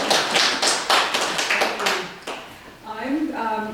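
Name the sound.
audience applause for Monica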